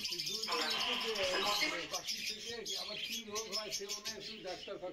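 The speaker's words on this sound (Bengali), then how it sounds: "এখানে তোমরা দেখতে পাচ্ছ লাভবার্ড, আবার লাভবার্ড দেখতে পাচ্ছ, যা খুবই চঞ্চল, ওরা খুবই ছটফট করছে।" Lovebirds, cockatiels and Java birds in a caged collection chirp and tweet busily in dense, overlapping bursts close by, while a person talks over the chatter.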